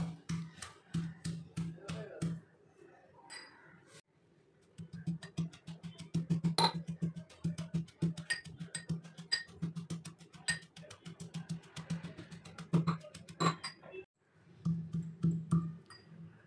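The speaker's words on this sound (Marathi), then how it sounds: "हे सर्व साहित्य आपल्याला कुटून घ्यायचे आहेत" Coriander and other beetroot cutlet ingredients are pounded by hand with quick, regular thuds and faint clinks, in steady bursts broken by a few short pauses.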